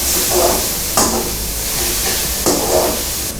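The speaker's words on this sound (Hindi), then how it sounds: "अब इसको इतना भूनना है कि इसमें मिर्चें कच्ची ना रह जाएं" Chillies and spices being fried in a pan, a loud steady sizzle close by with periodic swells as a spoon stirs and scrapes through the hot oil, no talking.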